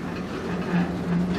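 A CN M382 manifest freight train hauled by several CN locomotives creeps slowly past near Strathroy, giving a steady, close rumble with soft wheel clatter and no talk.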